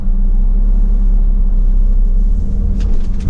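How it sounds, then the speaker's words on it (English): A Renault Master seven-seat crew van engine idles steadily just after start-up, a loud, even low rumble that holds throughout without a break. "Firstly, I need to be getting the engine started up. There we go, as you can see, it started up straight away."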